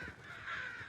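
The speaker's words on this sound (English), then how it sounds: "there was a loud noise, and all the birds began flying away" Crows cawing as a flock of birds flies away, a single harsh, drawn-out caw that is fairly faint and heard alone.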